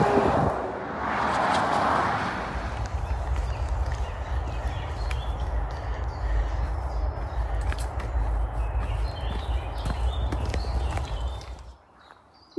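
Busy main road near a town carries a steady, broad rumble of passing traffic at moderate distance, with scattered footsteps and small sounds on top, fading out near the end.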